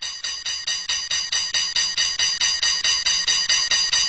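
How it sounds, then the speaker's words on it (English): An electric bell inside a glass bell jar rings in rapid, evenly spaced bursts, a steady metallic trill that stays fairly constant in loudness, somewhat muffled and enclosed. "the sound of the bell goes on increasing as the amount of air in the bell jar increases"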